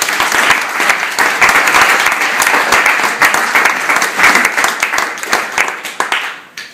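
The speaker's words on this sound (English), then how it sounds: "so a quick round of applause for her." A wedding reception audience gives a round of applause during a best man's speech, steady crowded clapping with scattered louder claps that holds for several seconds before fading out at the end.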